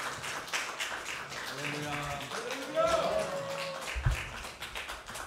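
A church congregation claps during a Sunday revival worship service, the patter running steadily under a loud voice and sustained singing or music.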